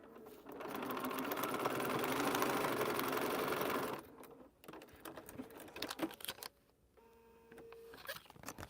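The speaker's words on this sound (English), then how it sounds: "So I'm sewing piece 6 and 7 on." Up close, a sewing machine runs steadily for a few seconds while sewing paper-pieced quilt units from light fabric, then stops and gives way to softer handling clicks and faint rustling.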